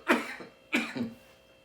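Two quick, close coughs, a short pause between them, each with a rough throaty tail, in a quiet room.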